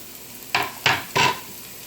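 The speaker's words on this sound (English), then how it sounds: "At this point I'm going to go ahead and add my green chilies, which are right here." Green chilies hitting hot oil in a pan for a shrimp curry, three sharp bursts of sizzling in quick succession, each loud crackle flaring then fading, with no talking.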